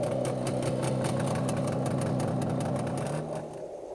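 A motorbike engine on a deserted night road runs with a steady, rapid pulsing putter, fairly close, then fades slightly near the end.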